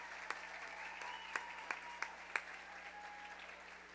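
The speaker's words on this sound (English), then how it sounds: "So I want to thank them, and I want to give them an applause." Outdoors at a Brevard Zoo evening event, an audience applauds zoo volunteers with scattered, fairly faint clapping and a few sharper individual claps over a steady low background hum.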